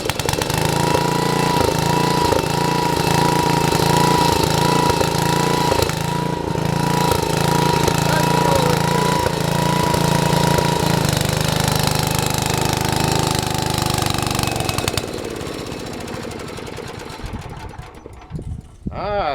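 A Troy-Bilt small engine runs rough and loud close by, chugging and starved for gas, with an uneven pulsing beat before it sags and sputters near the end.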